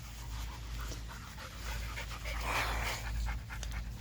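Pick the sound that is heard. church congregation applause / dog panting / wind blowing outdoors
dog panting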